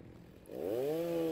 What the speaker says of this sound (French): une tronçonneuse fait énormément de bruit